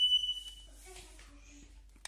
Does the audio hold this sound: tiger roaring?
no